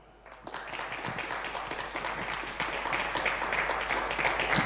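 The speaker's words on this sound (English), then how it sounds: "Again, huge round of applause." Steady audience applause at a motorsport championship round at Croft that swells slightly over a few seconds, many hands clapping at once, dense and sustained.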